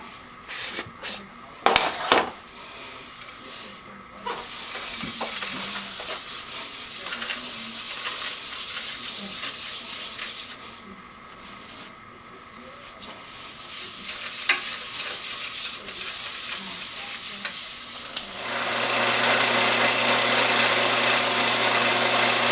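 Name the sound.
polishing hackberry bowl on lathe with Yorkshire Grit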